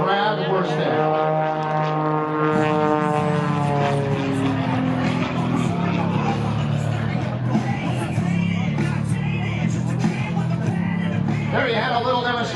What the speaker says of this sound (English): There you had a little demonstration of the incredible roll rate of the MX2